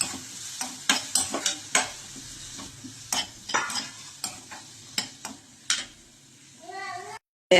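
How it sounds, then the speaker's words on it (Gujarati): Onions and tomatoes frying in a pan while being stirred, with sharp, irregular scraping strokes over a soft sizzle, close and clear, ending in a brief cut. "હવે આની અંદર આપણે ડુંગળી અને ટામેટા પણ એડ કરી દેવાના છે અને એને મિક્સ કરવાનું છે"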